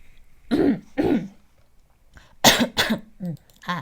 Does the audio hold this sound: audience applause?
no